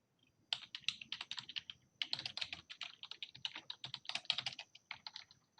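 Rapid typing on a computer keyboard during a programming lesson, close and crisp, in bursts of clicking keystrokes with brief pauses between them.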